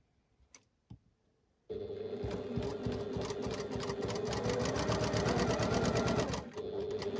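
A sewing machine stitches quilt block pieces along a quarter-inch seam, starting after a couple of soft taps and then running as one loud, even, rapid mechanical whir for about five seconds before pausing briefly.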